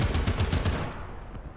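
Tank cannon fire in War Thunder, a Panzer III E engaging an enemy among rocks: several loud, rapid booming blasts in quick succession, then fading rumble with no talk.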